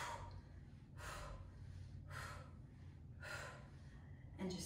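Sharp, forceful exhales during a floor-based cardio workout, four breathy bursts at roughly one-second intervals, close and fairly quiet.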